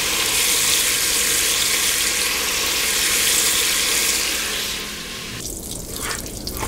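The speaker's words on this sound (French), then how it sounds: "La viande doit être saisie et dorée" Raccoon meat searing in a hot pan for jambalaya, a steady loud sizzle and hiss that eases slightly near the end, with a few faint clinks and no talking.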